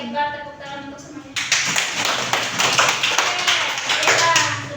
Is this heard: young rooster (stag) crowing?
no